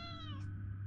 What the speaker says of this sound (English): There you go. There's your meow.